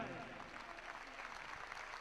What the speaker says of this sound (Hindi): इतनी तालियां बजाइए कि उनकी गले की माला लबालब भर जाए